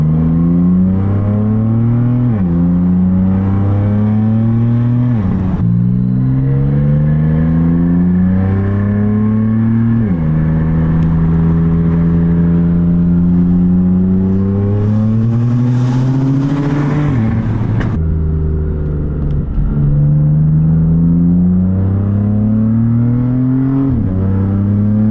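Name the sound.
BMW F80 M3 with Active Autowerke Maad Maxx exhaust accelerating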